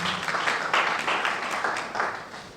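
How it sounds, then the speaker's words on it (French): An audience applauds at an honorary diploma ceremony for professors, a dense, steady wash of many hands clapping that swells and fades slightly, fairly loud and continuous. "On l'applaudit,"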